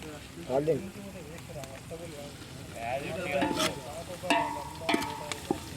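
Food stirred and frying in a pan at an outdoor neighbourhood party, soft scraping and sizzle running under loud nearby conversation and voices throughout.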